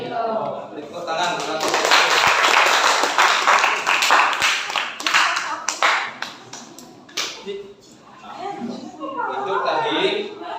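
Classroom clapping after a group presentation in a school science lesson, a burst of applause mixed with voices talking over it, then chatter continuing as the clapping thins out.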